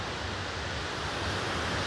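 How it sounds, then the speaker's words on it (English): Clear river water flowing steadily along the riverbank on a quiet morning, a continuous soft broadband rush with no breaks and no voices. "Clear water. I love that right there. I love that sound."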